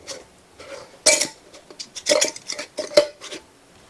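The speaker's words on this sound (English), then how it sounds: "If I can get the lid back on." A metal lid clatters and scrapes against a pot as it is fitted back on, a string of close, bright clanks and rattles of cookware.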